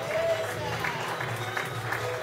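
Audience applause at a live folk music night in a peña, steady clapping from a crowd filling the room at moderate level with no voices over it.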